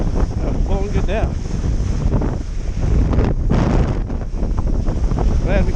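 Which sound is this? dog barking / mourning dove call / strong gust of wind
strong gust of wind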